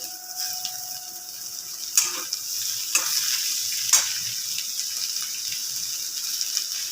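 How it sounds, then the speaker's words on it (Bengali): Chopped snake gourd stirred into reddish fried onions in a hot pan, a steady bright sizzle with a few sharp scraping stirs of the spoon. "চিচিঙ্গাটা ভাজা পেঁয়াজের মধ্যে দিয়ে দিতে হবে"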